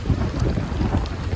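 Strong gusty wind at a lakeside in Doncaster, roaring loudly across the microphone as a continuous low rumble with no voices.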